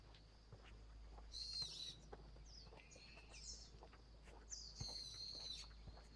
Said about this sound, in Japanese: 鳥のさえずりが。